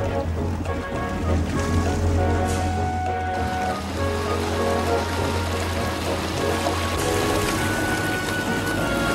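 Harbour scene with boats on the water: steady engine hum and sloshing water and waves fill the whole stretch at an even, moderate loudness.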